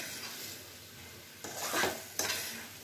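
Chicken keema with small boiled potato pieces sautéing in a pan, a steady background sizzle broken by two louder bursts of stirring and scraping, close and clear with no talking.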